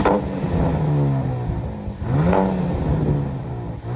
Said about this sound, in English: Rev it like a hard rev.